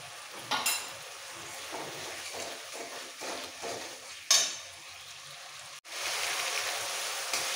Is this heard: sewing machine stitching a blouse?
no